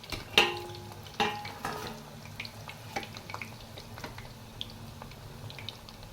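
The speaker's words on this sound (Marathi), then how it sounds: "एकदम स्लो गॅसवरच आपल्याला तळून घ्यायचं आहे" Cabbage manchurian balls fry in oil on a low gas flame, giving a soft continuous sizzle broken by a few clinks and stirring knocks, with no talking.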